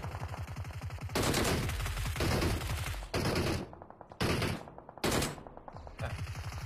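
DP-28 light machine gun fire in the game Peacekeeper Elite, several loud sustained bursts of rapid automatic shots separated by short pauses, close and dominant over faint background noise.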